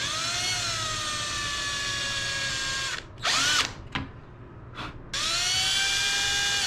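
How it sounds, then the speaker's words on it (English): A power drill with a number 40 bit whines loudly and steadily drilling out an aircraft rivet, stops briefly for a few short bursts and clicks, then resumes its high-pitched spinning. "I'm going to drill that out."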